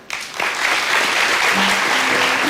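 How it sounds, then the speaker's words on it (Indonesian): Audience applause at an evening talk show greets a man in a blue jacket and white shirt called up to the stage, a dense, loud wash of clapping that builds quickly and holds steady. "Kita berikan tepuk tangan."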